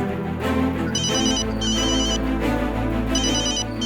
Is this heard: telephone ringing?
yes